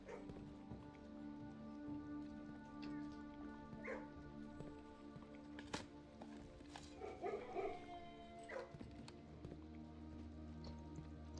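Small cartoon dogs in the video game Blue Prince dig and yip through locks, giving scattered light barks and whimpers over a steady hum of in-game ambience and patter like rain, with no talking.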